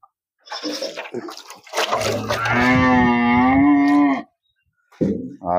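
Cattle on a cow farm with more than fifteen cows, a long, loud, close moo rising from a short lead-in, preceded and followed by brief muffled farmyard noises.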